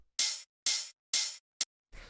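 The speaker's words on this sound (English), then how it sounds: "Next thing that we have here is these two hi-hats, which sound like this." Two layered techno hi-hats, the closed-and-open pair of a Drumcode-style track, hit in three long bright sizzling strokes, then a short clipped one and a fainter, noisier tail, with no other sounds.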